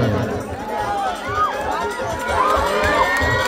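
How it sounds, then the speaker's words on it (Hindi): A large crowd at a stage event cheers and shouts, with children's voices and high whistles rising over a continuous noisy roar. "सभी लोग एक बार जोरदार ताली बजाकर को"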